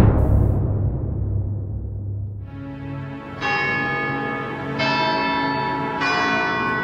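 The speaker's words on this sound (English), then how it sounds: "St Mary's church bells rang at 10:45 a.m." St Mary's church bells in Stamford ring out loud and clear, several strikes arriving at a slow, steady pace, each leaving a long ringing decay.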